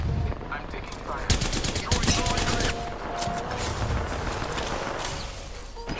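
Rapid automatic gunfire in the Apex Legends battle royale game, sustained bursts of loud, dense shots crackling continuously for several seconds with faint voice chat underneath.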